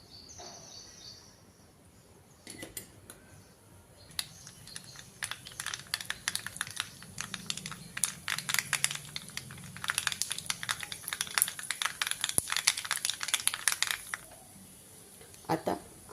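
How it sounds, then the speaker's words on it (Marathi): Mustard seeds crackling and popping in hot oil in a pan while cooking a Khandeshi onion dish, a rapid, irregular stream of sharp close pops that builds, continues for about ten seconds, then fades. "आता तेल गरम झालं, मोहरी घालूयात."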